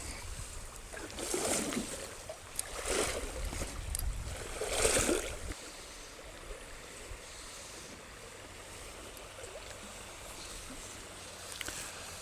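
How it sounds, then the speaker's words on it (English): Wading steps splash through a shallow stream while fly fishing, with several brief broad swishes of disturbed water in the first few seconds, then a steady quiet babble of flowing water alone. "I'll wind in, wade through this"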